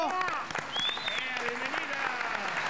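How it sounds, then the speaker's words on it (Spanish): Dense applause from an audience, with voices calling out and speaking over the clapping throughout. "Le damos el aplauso."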